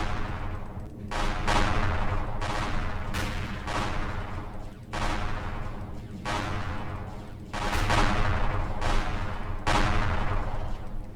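Turret gunfire in the space game Empyrion Galactic Survival roars in sustained, rapid bursts with brief gaps between volleys, loud and close throughout with no talk.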